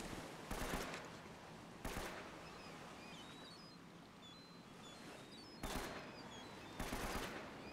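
Short bursts of gunfire aimed at the player in Uncharted: Drake's Fortune, four sharp volleys spaced across the clip against a quiet jungle-like ambience with faint bird chirps.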